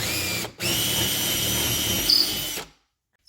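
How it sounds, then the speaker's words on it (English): A power drill bores a hole through an outside wall for EMT conduit with a large 1-1/8 inch bit during a DIY EV charger installation, running loud and steady after a brief start, then cutting off abruptly. "Now I can drill the pallet hole."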